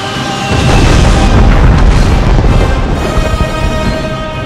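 A weapon strikes the planet Gallifrey during a Dalek invasion in a Doctor Who audio drama, producing a loud, sustained booming explosion that swells and rumbles for several seconds before slowly fading.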